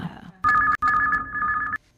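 A telephone bell rings loud and close in two bursts, a short ring then a longer one, as a caller comes through on an Akashvani Raipur Chhattisgarhi song-request phone-in radio show.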